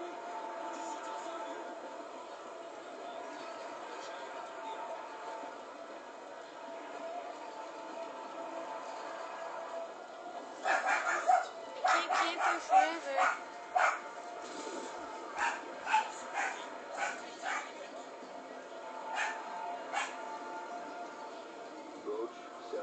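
A dog barks in a Modern Warfare II campaign mission: a string of sharp yips and barks partway through, over a steady game hum, with a voice talking.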